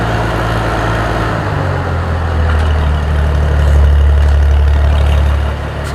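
A tractor engine, muffler fitted, idles with a loud, deep and steady low rumble. It swells slightly in the middle and eases back toward the end, with no talk over it.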